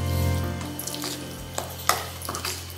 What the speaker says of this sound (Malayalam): ഇതിനി നന്നായിട്ട് മിക്സ് ചെയ്യാം.